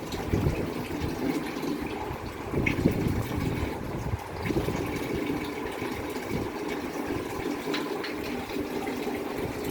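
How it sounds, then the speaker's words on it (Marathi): Water runs steadily from a Kangen water ionizer machine during a home installation, a continuous close, moderately loud stream with slight gurgling variations and no talk. "दोन्हीकडून यायला लागलं, आता पाणी घेऊ शकतो."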